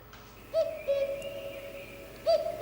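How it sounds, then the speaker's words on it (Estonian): A common cuckoo calls in a series of clear two-note phrases, some near and some a bit softer, over a faint steady high tone and a quiet outdoor background. "No on kägu."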